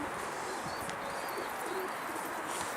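Soft cooing of a Mardin pigeon drifts through a steady wash of background noise, faint and intermittent over a few seconds.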